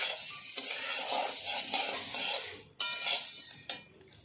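Roasted chickpeas (daliya) are stirred and roasted in a kadai on a low flame, producing a close, continuous rattling and scraping of hard grains against metal, with a few sharper clinks and knocks.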